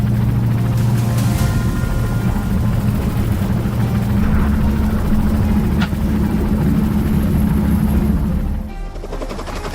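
A helicopter's steady rotor thump and engine drone during a wild boar hunt, loud and close, holding throughout before easing slightly near the end.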